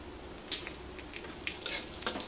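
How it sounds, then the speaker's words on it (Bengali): White and black cumin seeds crackling in hot oil, a faint close sizzle with quick light pops and crackles scattered over a couple of seconds. "ওই তেলে আমি সাদা জিরে আর কালো জিরে ফোড়নে দিয়ে দিচ্ছি"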